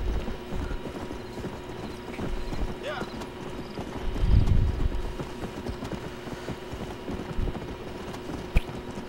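Steady hoof clip-clops from a horse ridden through a town in the video game Red Dead Redemption, rhythmic and close throughout, with a voice talking over them.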